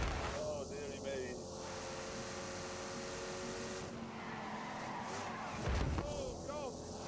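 A car drifting around a corner in The Grand Tour racing game, tires squealing in short bursts over a continuous engine drone, with a brief heavier rumble near the end.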